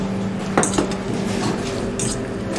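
Marinated chicken with Kashmiri chili paste and turmeric being mixed in a bowl, giving a few soft clinks and scrapes against the bowl over a steady kitchen hum, close and moderately loud.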